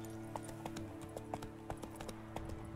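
Roach the horse in The Witcher 3 video game trotting with steady, evenly spaced clip-clop hoofbeats, fairly quiet, over a soft sustained musical backdrop.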